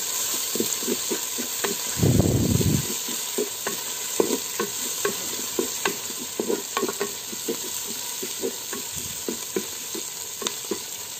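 Tomato, green chilli and ginger fry in a pan with a steady sizzle and hiss, broken by repeated sharp scrapes of a stirring spoon and one loud burst of added-ingredient sizzle early on, with no talking.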